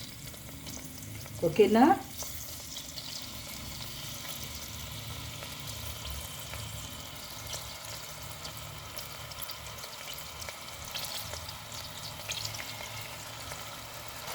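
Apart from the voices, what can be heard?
chicken pieces frying in hot oil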